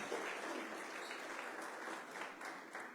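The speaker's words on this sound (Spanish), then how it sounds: "Dele un fuerte aplauso al Señor." Church congregation clapping together in a sustained burst of applause, dense and even, moderately distant, with no speech over it.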